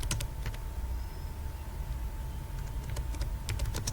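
Keys clatter in quick irregular bursts as HTML code is typed on a computer keyboard, the clicks fairly close over a steady low hum, with short pauses between runs of keystrokes.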